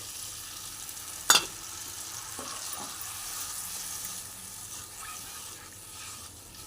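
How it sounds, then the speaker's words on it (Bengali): Water poured into masala frying in oil for a brinjal and hilsa fish curry, marked by a sharp splash and burst of hissing near the start, then a steady bubbling sizzle that gradually settles, with no talk. "এবার এর মধ্যে আমি জল ঢেলে দিচ্ছি"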